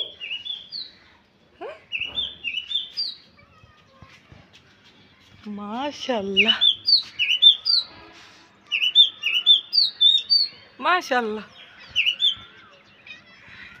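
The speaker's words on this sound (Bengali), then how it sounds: "পাখি ডাকে।" Small birds chirp and tweet in repeated bursts outside near a rooftop door, with a voice talking over them at intervals.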